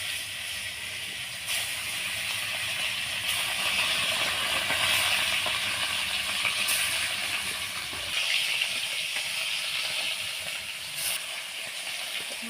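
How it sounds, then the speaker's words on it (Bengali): Falli fish seasoned with salt and turmeric fries in oil in a wok, giving a steady, fairly loud hiss with a few brief crackles that eases off near the end. "কড়াইতে কিছুটা তেল দিয়ে দিচ্ছি মাছটা ভেজে নেওয়ার জন্য"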